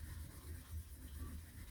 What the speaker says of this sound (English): I'm going to go run over with the Scotch-Brite, key up the surface